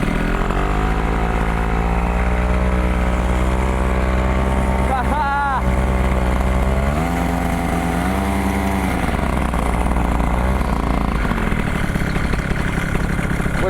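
A homemade motorcycle powered by a paramotor engine buzzes steadily and loudly up close, its droning pitch rising and falling as the throttle changes, with a brief sharp squeal partway through.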